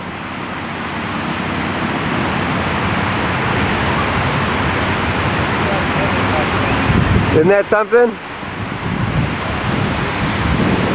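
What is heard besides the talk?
Houston Water Wall fountain with cascading water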